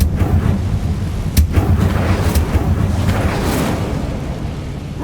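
The Incendio fire spell cast in Hogwarts Legacy: a loud, continuous roaring, rumbling burst of flame with crackling spikes. It sounds close and fills the whole few seconds with dense, heavy noise.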